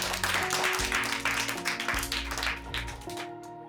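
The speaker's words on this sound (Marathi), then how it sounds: "एकदा टाळ्या वाजवते यासाठी" Children's applause on a mountain-path school visit at Raireshwar, a steady patter of many small hands clapping together at close range for several seconds before fading slightly, with some background voices underneath.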